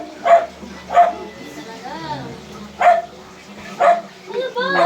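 Dogs give four or five sharp, loud barks at irregular intervals, with children's voices and chatter between the barks.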